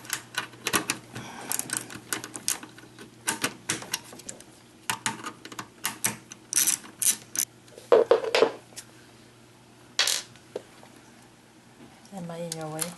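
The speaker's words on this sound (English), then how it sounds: "We need a 1/4 inch wrench. Take this screw out." A 1/4 inch wrench clicks and ratchets against a screw on a GE refrigerator water valve, giving irregular close metallic taps and bursts over a low steady hum, with brief talk in between.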